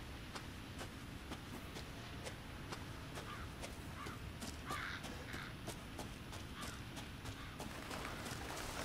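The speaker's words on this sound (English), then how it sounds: "The crows." Crows caw repeatedly at a distance in the Resident Evil 7 video game, brief harsh calls scattered over a steady ambient hiss, with no talking.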